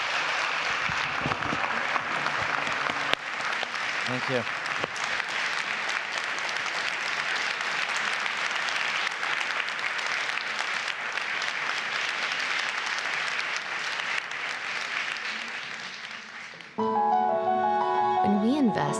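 A large conference audience at an anti-poverty gathering applauds two photojournalists with steady, dense clapping for about seventeen seconds. A brief spoken thanks follows, then music begins.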